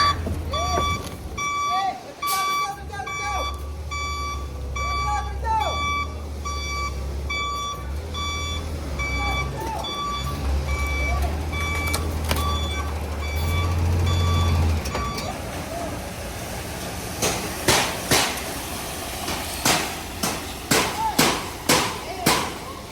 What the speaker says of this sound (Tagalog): papasok na ang ating truck